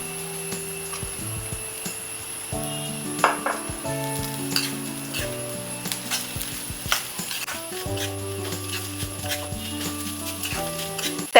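Grated coconut fries with onions in a pan for masala paniyaram, a steady sizzle with occasional stirring scrapes and utensil knocks, while music plays over it.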